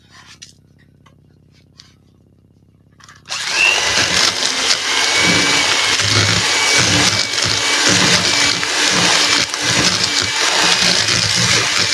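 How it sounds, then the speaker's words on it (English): An electric whisk beating scone or cupcake batter kicks in after a quiet start, then whirs loudly and steadily close by for the rest of the time. "So we're going to whisk this till it's light and fluffy."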